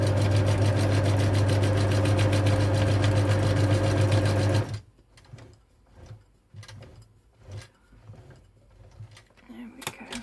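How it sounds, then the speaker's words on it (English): A sewing machine stitches fabric with a loud, even mechanical hum for nearly five seconds, then stops. Scattered quieter clicks and handling noises follow. "So I have done a back stitch on this, so I don't need to knot it."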